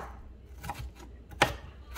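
Knife chopping onion on a board in a home kitchen while cooking pozole: a few scattered, sharp cuts with gaps between them, one especially crisp, over a quiet room background.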